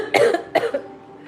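Two quick, sharp coughs close to the microphone, then a brief fading breath.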